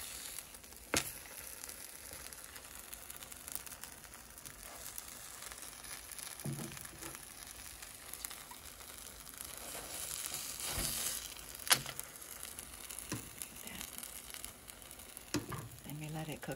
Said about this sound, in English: Then we let it cook on the other side until it's firm and cooked in the middle.